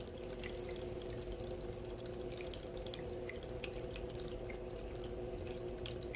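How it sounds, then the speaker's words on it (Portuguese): A water fountain runs steadily, its continuous flowing and splashing laced with small drips, close and even throughout with no voices. "a sua atenção só no barulho da água"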